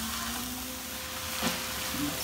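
Vegetables for veg spring rolls stir-frying in a pan, a steady soft sizzle throughout with a faint scrape of stirring.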